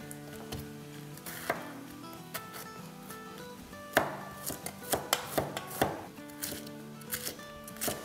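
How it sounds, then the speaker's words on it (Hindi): Bell pepper and cabbage being chopped with a knife on a board for a large batch of chicken chow mein, a run of sharp, uneven chops, some close and loud, with a faint background hum. "अब यहाँ हमारे पास जो बेल पेपर है, कैबेज है, ये काट लेते हैं।"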